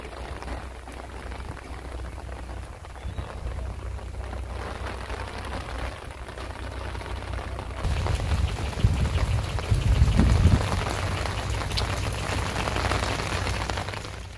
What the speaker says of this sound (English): So now every time it rains, this is what happens to our rainwater. It travels on the surface of our roof,